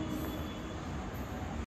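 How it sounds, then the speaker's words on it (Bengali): A train passing in the evening, a continuous rumbling roar of wheels and cars at moderate distance that fills the clip and cuts off abruptly at the end. "ট্রেন যাচ্ছে।"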